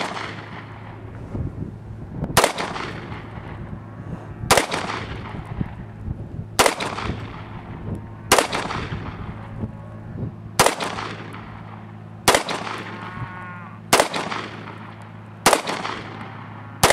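A Beretta PX4 Storm 9mm pistol fires at a range target 15 yards away, eight sharp, loud shots spaced roughly two seconds apart, each followed by a ringing decay over a low background hum.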